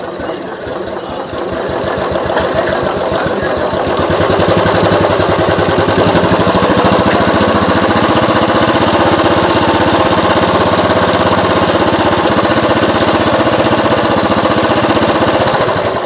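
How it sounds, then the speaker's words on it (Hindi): Royal Enfield Classic 500 EFI motorcycle with an electrical current fault starts up and settles into a loud, steady, close-up thumping idle with a rapid mechanical rhythm. "तो चलिए स्टार्ट कीजिए, देखते हैं कि इसमें करंट कैसा फ्लो"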